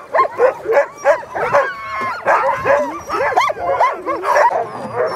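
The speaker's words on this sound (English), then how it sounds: "All the dogs were quiet until the harnesses came out and everyone in the kennel got excited." A kennel of sled dogs erupts in excited barking, yipping and whimpering as harnesses come out before a dog sledding run in Michigan's Upper Peninsula, many dogs close together in a continuous loud overlapping chorus.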